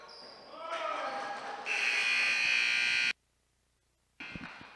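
Indoor basketball game buzzer blares in a long steady electronic tone at the end of an Oregon vs Phoenix game, cutting off abruptly amid gym noise and commentary.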